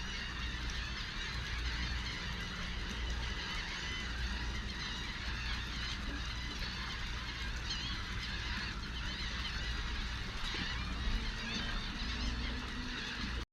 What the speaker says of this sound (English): I had a whole bunch of birds that were just going crazy